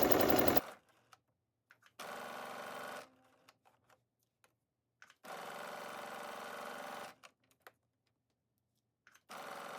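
A sewing machine stitches the side seams of sweatpants pockets with a 1/2 inch seam allowance, running in three separate bursts of whirring, with quiet pauses between them.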